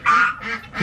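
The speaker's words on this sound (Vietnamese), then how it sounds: "Đằng sau nhà mình còn nuôi mấy con vịt nữa, quay ngỗng nữa các bạn ạ." Ducks kept behind a house, quacking in a few loud, harsh bursts close by, with no talk over them.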